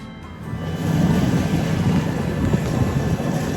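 A sailboat engine drones steadily with low rumbling and a muffled mechanical hum, heard from inside the hull with no talking.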